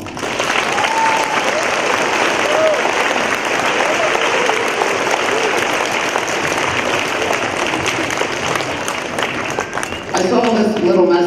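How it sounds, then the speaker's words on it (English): A school audience at a Veterans Day assembly gives a loud, dense round of applause in honor of veterans and active military, sustained and close for the whole stretch, with a brief shift in texture near the end. "Round of applause"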